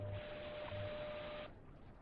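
WWV time signal station on 10 MHz received through a QS1R direct-sampling SDR receiver: a steady, loud band of static with a continuous tone, lasting about a second and a half before the noise drops slightly.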